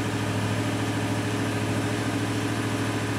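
A 2019 Chevrolet Silverado with the 8L90 transmission, its engine held at raised revs while power braking, gives a steady, continuous mid-to-low drone that neither rises nor falls throughout. No voices.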